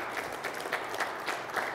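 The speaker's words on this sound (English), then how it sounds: "you can give that round of applause" An audience applauds an engineer at a tech product presentation, a dense, steady patter of many hands clapping together throughout, moderately close and without speech over it.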